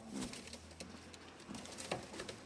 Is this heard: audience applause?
no